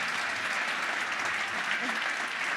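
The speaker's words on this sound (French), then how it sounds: "On applaudit Fanny." Steady audience applause for a colleague honoured for twenty years at her company during a leadership seminar, dense, even clapping filling the whole stretch at moderate loudness.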